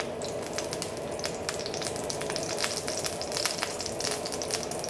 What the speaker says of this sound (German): Und dann ringsherum richtig schön scharf anbraten lassen.